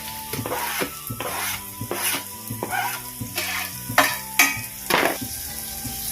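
Finely chopped onions go into hot oil in a pan for masala onion chapathi. Bursts of sizzling mix with a ladle scraping and clanking against the pan in an uneven rhythm, close and fairly loud, with no voices.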